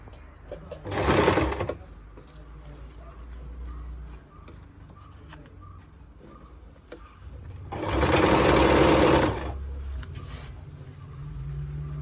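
An electric sewing machine stitches churidar pant fabric in two loud, close bursts, the first short and the second longer, with quiet handling of the cloth between them.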